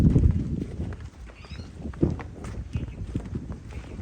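A dairy cow being walked on a farm makes close, irregular hoof thuds and steps on the ground, with faint voices in the background.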